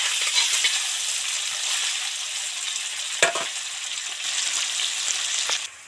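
Paneer pieces fry in butter and mustard oil, giving a steady close sizzle across the whole stretch with one sharp clack of a utensil midway and no voices.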